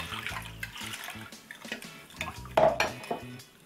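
Water poured into a soy sauce seasoning for braised chicken in a kitchen, with clinks of dishes and utensils, a brief splashing pour partway through and light handling noises around it.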